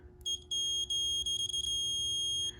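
A continuity tester gives a high, steady electronic beep in several short bursts, then holds for about a second, loud and close over a low hum.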